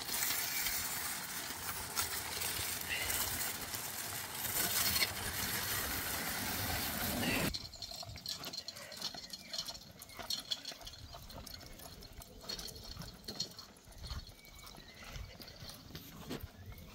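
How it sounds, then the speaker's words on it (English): The wheels of a Sekey double-decker collapsible wagon roll first over gravel with a loud, steady crunching rattle, then turn quieter and more uneven as they bump across grass. "here's an example for you of how this is going to sound on both gravel and grass"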